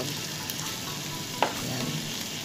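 Chop suey sizzling and frying in a pan while being stirred, a steady close hiss with a sharp scrape of the utensil near the middle.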